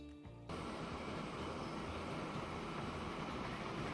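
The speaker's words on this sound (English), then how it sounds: "Well, our docks train is running pretty well here." A docks train runs in the simulation game Transport Fever 2, a steady loud rumble of wheels and cars that kicks in after a short quieter moment and carries on without any talking.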